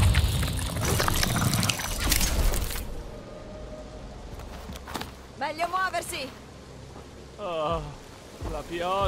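Rain falls on an alien planet in Marvel's Guardians of the Galaxy video game, heard as a steady hiss of downpour that is loud at first, then thins under game sounds and characters talking.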